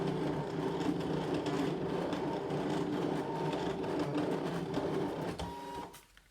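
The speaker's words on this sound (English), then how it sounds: "I'm going to set the machine off, and hopefully it'll draw that flower for me" A Brother ScanNCut machine draws a flower with a pen on card, whirring and stepping in a steady mechanical chatter close by, then winding down and falling quiet near the end.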